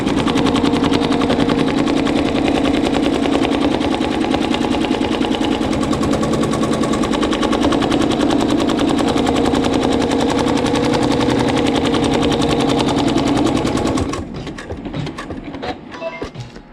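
A sewing machine stitching a placement line on quilt fabric, a loud, fast, steady mechanical chatter that runs continuously and then stops abruptly near the end.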